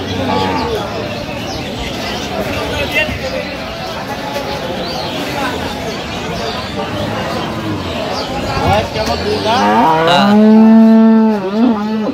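Dairy cows and calves low loudly at Aftabganj cattle market in Dinajpur, Bangladesh, with one long, deep moo standing out near the end, over a steady hubbub of crowd chatter and voices.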